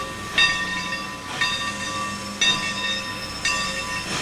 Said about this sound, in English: A powerful steam locomotive heads into the engine yard to replenish its supply of fuel oil and water